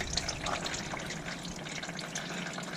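Engine oil from a Can-Am X3 drains into a funnel, a steady close liquid trickle and splatter with light dripping, continuing evenly throughout with no voices.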